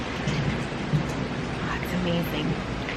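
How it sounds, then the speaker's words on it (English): Rain falls on an early spring morning during a storm, a steady, moderately loud hiss of drops that stays even throughout. "It's raining."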